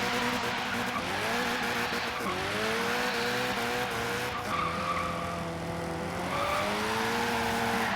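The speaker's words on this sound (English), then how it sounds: "Good drifting. The D-Class drift car." A D-class drift car in Forza Horizon 3 slides with long, loud tire squeals that rise and fall over a revving engine, several drifts in a row with no talk.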